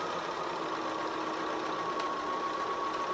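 A sewing machine stitching a quilt seam runs as a steady, even mechanical whir with a faint high hum, continuous and close throughout with no talking.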